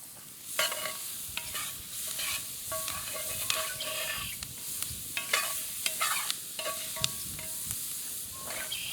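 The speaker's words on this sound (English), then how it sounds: "just saute it to where they're soft" Vegetables are sautéed in a pan, with a steady close sizzle broken by repeated scraping stirs of a utensil, fairly loud and with no talking.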